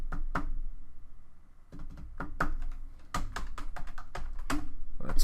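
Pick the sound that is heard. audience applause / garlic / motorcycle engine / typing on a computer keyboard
typing on a computer keyboard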